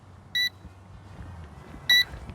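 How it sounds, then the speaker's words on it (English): Two short, high electronic beeps from a LE-IDEA IDEA 37 GPS drone's remote controller, about a second and a half apart, crisp and clear over a low steady hum. "so you got there the controller's beeping"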